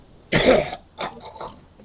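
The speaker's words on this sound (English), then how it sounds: "let me clear my throat here." A throat clearing: one strong rasping burst, then two or three shorter, softer rough bursts, close and fairly loud, with no talking.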